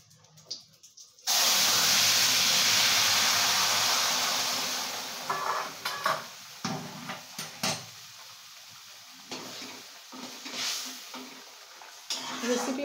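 Bata fish tipped into a hot pan with a loud, sudden burst of sizzling that settles into steady hissing spitting, punctuated by scraping and clatter of utensils; light mustard-oil cooking without heavy spices.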